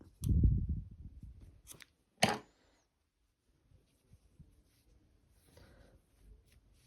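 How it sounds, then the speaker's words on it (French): Scissors snip crochet yarn with a couple of sharp, close cuts, followed by quiet handling rustles and near silence. "Je coupe mon fil, je fais un nœud."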